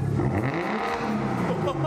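A BMW M140i engine idles up close in a steady, even low rumble that holds from start to finish.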